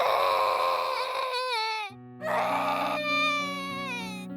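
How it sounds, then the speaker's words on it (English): A young child cries at night indoors, with long wavering wails that rise and fall, a brief break, then renewed sobbing cries close by and fairly loud, with no speech. "I woke up to the sound of our child crying."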